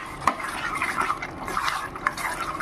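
A spoon stirs olive pickle and spices frying in a pan, giving soft scraping and light clinks against the metal with a low sizzle underneath.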